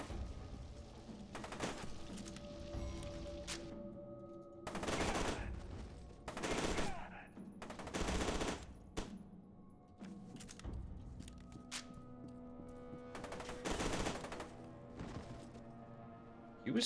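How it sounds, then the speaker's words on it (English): Bursts of enemy gunfire in a first-person game, heard as separate loud volleys spread across the span with quieter gaps and background rumble between them, and a voice speaking briefly. "He was still shooting even after exploding."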